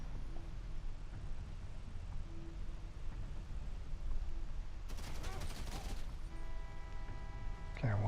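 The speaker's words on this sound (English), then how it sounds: "I'm wasting bullets on these guys." Gunfire in the video game GTA Online during the Cayo Perico Heist: a brief, moderately loud burst of rapid shots over steady wind and engine ambience, followed by tonal game sounds.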